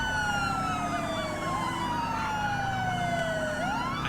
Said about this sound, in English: There goes the AI cycling their siren.